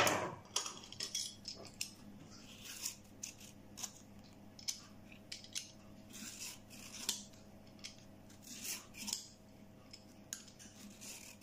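Peeler scraping the skin off a courgette in a kitchen, a run of short rasping strokes repeating steadily and close, with faint background hum and no talk.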